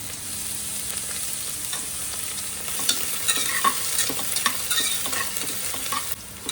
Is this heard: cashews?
yes